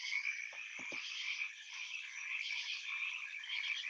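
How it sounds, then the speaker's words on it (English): A chorus of frogs in a forest, a dense, steady trilling croak that continues unbroken and fairly faint, with a few soft low thumps near the start. "if you listen very closely, you will hear the singing of the frogs."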